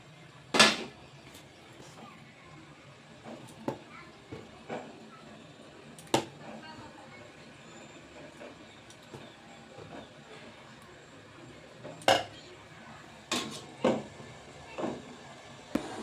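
Metal idli stands are set one at a time into a pot of boiling water, giving a few sharp, separate clinks and knocks spread over a soft background hiss.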